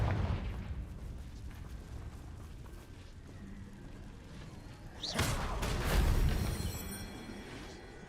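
A fire-blasting spell detonates in a wizarding world video game, a sharp burst followed by a rolling, roaring explosion that swells and fades over a few seconds.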